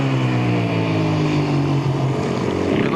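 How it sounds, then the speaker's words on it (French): A Yamaha WRF 450 motorcycle races in a 2003 police and gendarmerie rally, its engine roaring loud and close with a pitch that sweeps down over a few seconds. "Le voici, Olivier Gabillon, très audacieux au guidon de sa Yamaha WRF 450"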